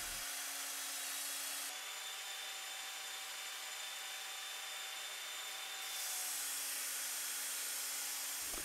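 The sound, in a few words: Work Sharp belt knife sharpener running with P120 coarse grit belt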